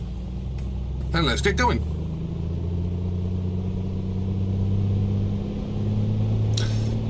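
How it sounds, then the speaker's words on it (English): Simulated piston engine of an A2A Comanche 250 light aircraft in a flight simulator, a steady low drone that holds through the clip, with someone talking briefly over it near the start. "So let's rev her up"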